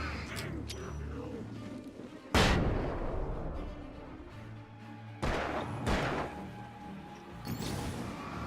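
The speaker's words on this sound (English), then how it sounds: "Shotgun." Shotgun firing in the video game Alan Wake: a few loud, booming blasts spaced several seconds apart, each with a rumbling tail, over a murky background.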